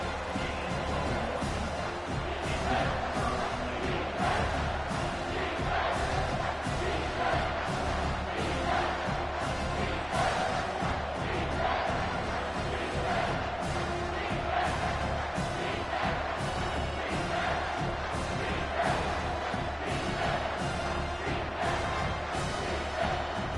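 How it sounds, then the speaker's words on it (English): A big football stadium crowd roars without letup as the defense holds near the goal line, a loud, dense wall of cheering and shouting sustained throughout. "this big crowd doing everything possible to inspire this defense down here near the goal line"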